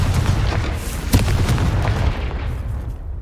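Explosive blast from the Confringo fire spell in the video game Hogwarts Legacy, a sharp boom near the middle rising out of a dense, continuous rumble of combat noise and lingering crackle.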